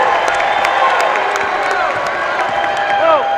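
Basketball arena crowd at a McNeese versus South Dakota State college game roaring and whooping, a loud sustained cheer with whistles, announcer commentary running over it.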